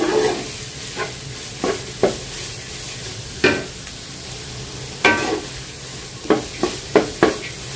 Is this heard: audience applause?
no